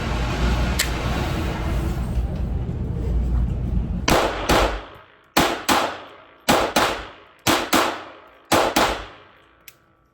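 An Olympic Arms Wolverine pistol fires a string of about seven sharp, loud reports, unevenly spaced and each with a short ringing decay, preceded by steady background noise and ending with a faint click.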